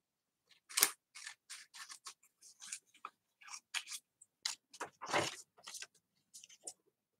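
Scissors cut paper from a travel brochure in a series of close, crisp snips, several quick cuts in rhythmic bursts with short pauses between them, heard alone.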